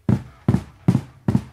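Four booming kick drum flams played with foot pedals, each a doubled low thump, spaced evenly and played loud and close with nothing else.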